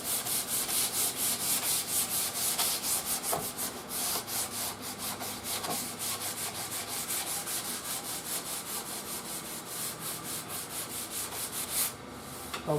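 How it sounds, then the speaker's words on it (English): Hand sanding a bare wooden Crosley radio cabinet with 220-grit sandpaper, a loud, close, rhythmic back-and-forth rasp of even strokes that continues steadily with no talk. "220 sandpaper. And we just sand it down."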